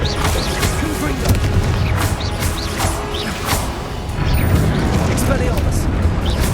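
Confringo fire-blast spells in Hogwarts Legacy go off as a rapid run of loud crashing booms and impacts in a busy battle, mixed with combat effects.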